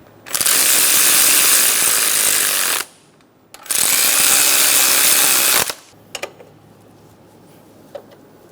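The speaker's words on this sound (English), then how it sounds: "Snug the bolts down." Power tool snugging down camshaft position sensor bolts on a 2003-2007 Honda Accord, two loud sustained bursts of roughly two and a half seconds each, then a few short clicks and quiet.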